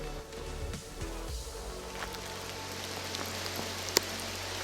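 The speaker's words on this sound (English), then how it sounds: "it has rained nonstop for the last 4 hours, or more than 4 hours" Steady rain falls on a forest hiking trail in the Smoky Mountains, a continuous even hiss of drops with no break and one brief sharper tap near the end.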